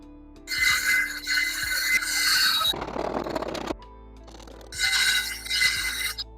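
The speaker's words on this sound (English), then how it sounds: "Now I got the little handsaw." A small handsaw makes short rasping cuts in wood while building a packable chicken coop, two bursts of close, bright scratchy strokes separated by a brief rougher scrape.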